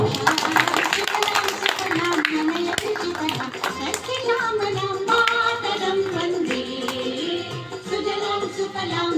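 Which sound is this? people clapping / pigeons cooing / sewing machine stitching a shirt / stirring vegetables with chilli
people clapping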